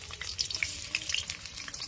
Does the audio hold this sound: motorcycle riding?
no